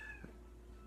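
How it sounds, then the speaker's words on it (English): A house cat lets out a single short, faint meow near the start, then only quiet room hum remains. "That was my cat."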